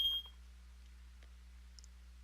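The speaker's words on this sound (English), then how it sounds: "And then there's a beep" A brief, high electronic beep sounds at the very start in the Danganronpa 2 video game, followed by near-silence over a low, steady hum.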